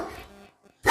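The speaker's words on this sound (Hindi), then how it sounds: "आ कुत्ता देख" A dog barks in short, sharp bursts, loud and close, with a quiet gap between them.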